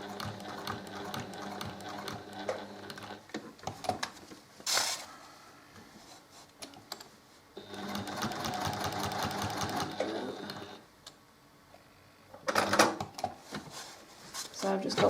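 A sewing machine stitches a quilt block for a split diagonals design in bursts, its fast mechanical whir running for a few seconds and stopping in between, with a person talking quietly over and between the runs.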